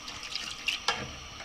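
Half a cup of water is poured onto caramel, giving a short, close splashing trickle with a couple of sharper splashes near the end.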